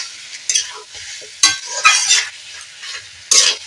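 Mutton coated in ginger paste and spices is stirred in a pan, with several sharp, close scrapes and clatters of a spoon against metal, set between quieter moments of soft sizzling.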